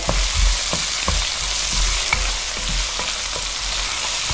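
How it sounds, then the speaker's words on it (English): Chopped chilli and garlic frying in a pan for a chicken curry, a continuous loud sizzle broken by regular scraping stirs of the utensil. "Chilli and garlic is in. So start that to cook a little bit more."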